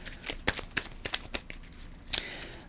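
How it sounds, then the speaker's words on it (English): A deck of cards is shuffled during a solo tabletop board game, giving soft, quick riffling bursts and light slaps, close and quiet, with no talking. "So let's shuffle their deck up."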